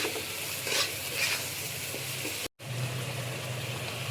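Spices frying in a pan for a silver carp fish curry with ridge gourd and potato, a steady close sizzle with occasional stirring scrapes and a brief dropout midway.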